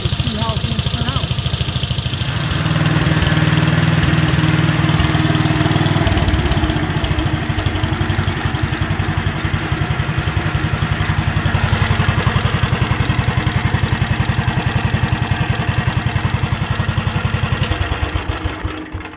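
A 1957 Wheel Horse RJ35 lawn tractor's small engine idles loud and close with a steady, rapid chugging pulse that keeps running throughout and eases slightly near the end.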